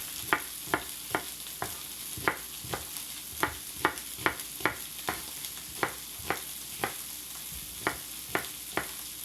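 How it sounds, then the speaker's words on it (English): Meat being stirred and seared in a pot for a gyro-style pot roast, with a steady run of sharp utensil scrapes and knocks over a soft sizzle, close and alone without talk. "I'm gonna stir that meat first before I put my onions in."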